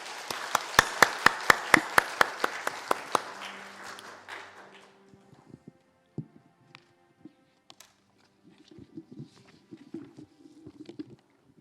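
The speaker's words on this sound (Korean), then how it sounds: "박수로 맞아주시기 바랍니다." A Korean church congregation claps during a Sunday service, a short burst of sharp, evenly spaced claps over a softer wash that fades out within a few seconds, leaving near-silence with faint scattered knocks and rustles.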